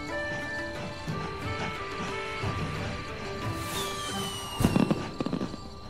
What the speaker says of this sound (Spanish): es hora del show especial de fuegos artificiales de Teddy